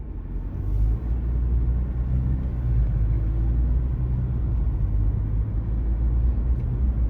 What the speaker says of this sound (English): So guys, we start driving now